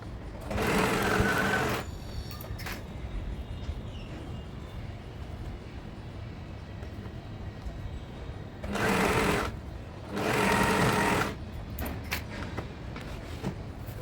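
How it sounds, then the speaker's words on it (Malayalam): A sewing machine stitches the shoulder seam of a crop top in three loud, close bursts of rapid mechanical whirring, the first about two seconds long, separated by quiet pauses. "അതിനുശേഷം നമുക്ക് ഷോൾഡർ സ്റ്റിച്ച് ചെയ്ത് കൊടുക്കാം"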